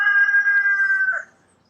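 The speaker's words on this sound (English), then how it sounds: "a crowing rooster at minutes to 6 in the evening" A rooster crows once at about six in the evening, a single loud, drawn-out nasal call close by that trails off into quiet.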